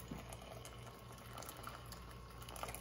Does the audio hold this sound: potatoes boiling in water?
yes